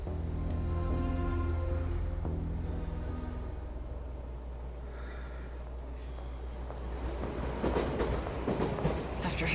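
Train ride in the video game 13 Sentinels: Aegis Rim, a steady low rumble of rolling wheels with tonal hum and a building, busier clatter toward the end, heard alone without talk.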